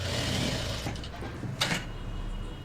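A sewing machine stitches a straight pant seam with a steady mechanical whir that slows and pauses near the end, close and moderately loud, with no talk.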